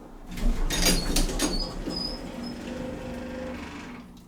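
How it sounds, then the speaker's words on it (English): A 1960s Alpin-Otis traction elevator door operator running as the doors open and close, a steady mechanical whir and hum with a few clunks near the start, close and sustained, with no voices. "Love the sound of the door operator"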